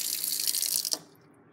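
Water runs from a sink faucet in a printmaking classroom as a steady, close hiss, then shuts off abruptly near the end, leaving near silence.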